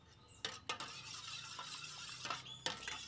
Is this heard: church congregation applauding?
no